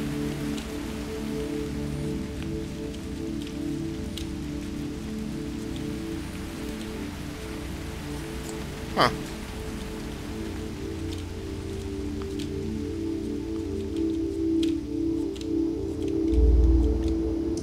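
Steady rain patters behind a door in a video game, a continuous even wash that holds for the whole stretch, with one brief vocal utterance near the end.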